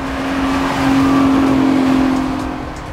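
Nissan GT-R lapping a race track at speed, engine roaring loudly and steadily up close and swelling briefly in the middle, with no clear tire squeal standing out.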